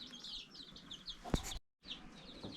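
Soft clucking and chirpy calls from a few chickens, fairly close, with one sharper sound and a brief silent gap.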